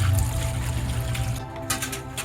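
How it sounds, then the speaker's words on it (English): Water is poured over a bicycle chain to rinse it clean, a close, continuous splashing and pouring with a few brief trickling bursts near the end. "All right, got it all rinsed off with water now."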